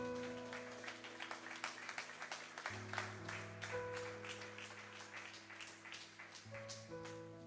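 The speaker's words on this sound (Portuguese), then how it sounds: "exaltem ao Senhor com palmas." A church congregation claps rhythmically along with sustained organ or keyboard chords, the clapping moderate and even under the music throughout.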